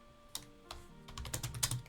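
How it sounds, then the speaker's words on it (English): Typing on a computer keyboard, a few sparse keystrokes at first and then a quicker run of close, crisp clicks, with no talking. "Typing is hard."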